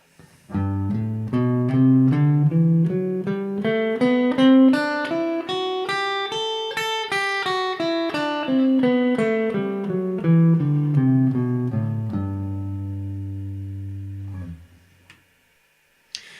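Single guitar notes step steadily up a major scale in first position and back down, evenly paced and clear, ending on a sustained low note that fades.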